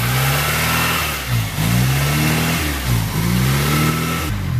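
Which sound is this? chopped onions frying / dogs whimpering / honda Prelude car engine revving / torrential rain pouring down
honda Prelude car engine revving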